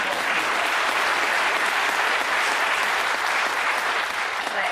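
Sustained applause from an audience at a town hall meeting on quiet skies and aircraft noise, a dense, steady wash of many hands clapping that stays loud and even throughout with no talk over it.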